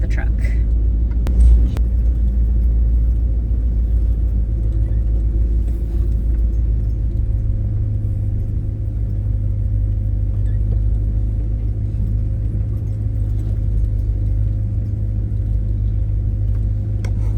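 A 1954 Cadillac hearse engine rumbles steadily at close range while being parked, a deep continuous low drone with a brief knock near the start and no talk over it.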